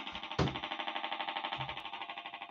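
An electronic theremin-like tone warbles steadily, with a sudden burst at the start and a rapid pulsing tremolo that holds and slowly fades.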